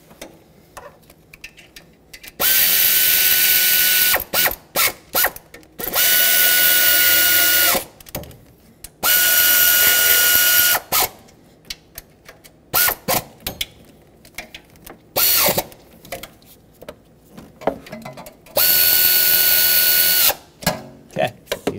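Power tool driving exhaust manifold bolts on a 2007-2014 Chevrolet Silverado 2500 HD 6.0L V8, loud whirring bursts of a few seconds each, repeated about six times with short ratcheting clicks and pauses between.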